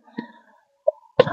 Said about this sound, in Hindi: खांसी हो गई, सॉरी